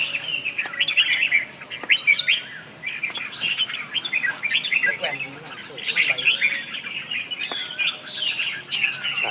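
Red-whiskered bulbuls chirp and twitter continuously at close range, a busy overlapping chorus of bright calls with occasional squawks, and a voice murmurs faintly underneath.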